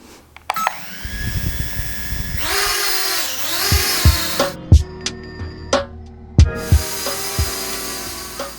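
Small Eachine E55 drone propellers spinning up with a rising whine and buzz, then a series of sharp knocks and clicks as they stop and restart, close and fairly loud, with no talk.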